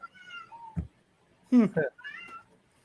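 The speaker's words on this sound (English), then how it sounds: "I hear a cat." A cat meows a few times, drawn-out calls close by, with short pauses between them.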